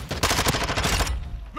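Rapid automatic gunfire in the shooter game Call of Duty: Modern Warfare II, loud dense bursts rattling nonstop for about a second before breaking off into quieter combat noise.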